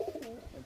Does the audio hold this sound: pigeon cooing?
yes